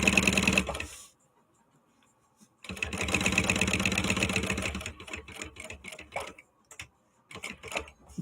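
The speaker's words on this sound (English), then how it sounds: "I'm starting to hear this noise that feels like I might be close to the end of my bobbin." A sewing machine stitches in bursts with a short pause between them, mechanical whirring and ticking close by, running low on bobbin thread while sewing a bag.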